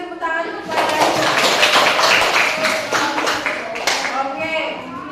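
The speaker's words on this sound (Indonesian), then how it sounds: "Oke, berikan tepuk tangan kepadanya." Elementary school pupils in a classroom clap their hands together in a dense, lively burst lasting several seconds, with a teacher's voice heard briefly before and after.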